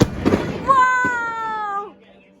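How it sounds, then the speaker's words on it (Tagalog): New Year fireworks go off nearby in a few sharp pops, followed by a loud rising whistle that lingers and then fades, with voices talking underneath. "Fireworks sa amin, di ba?"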